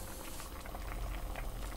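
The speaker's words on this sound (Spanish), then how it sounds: "puedes dejar que se cocinen más hasta secarse completamente el agua y fritarlos un poco más si quieres" Mushrooms simmering in water in a pan for a Colombian chicken-with-mushrooms dish, a steady close bubbling and crackling boil with no pauses.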